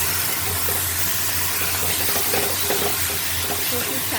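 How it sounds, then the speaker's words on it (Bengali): Taro leaves (kochu shak), boiled beforehand, are stirred in a pan while the water cooks off, giving a steady close hiss and sizzle with faint scraping throughout. "কিন্তু এই নাড়তে অনেক সময় লাগে, একদম জল শুকাবে"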